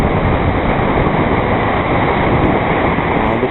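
Barnafoss waterfall in Iceland, a loud, constant roar of rushing water with no break, close and dense, no voices.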